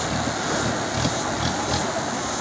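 Steady wind and water rush, like riding in an open boat, with a constant roar of engine and spray filling the whole stretch.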